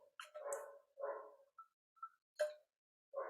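A dog barks indoors at home in a few loud, close barks and yips separated by short silences, with no talking.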